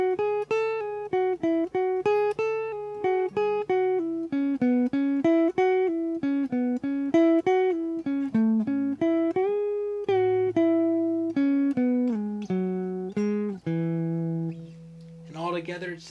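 A clean electric guitar plays a melody line, a run of plucked single notes and short bends in a steady rhythm, close and clear with no talking over it.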